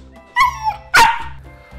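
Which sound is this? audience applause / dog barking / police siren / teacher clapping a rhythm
dog barking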